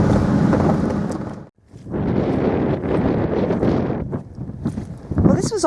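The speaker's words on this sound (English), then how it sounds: "It's a bit windy." Loud, buffeting wind roaring across the microphone in strong gusts, with a brief lull partway through before the blustering returns.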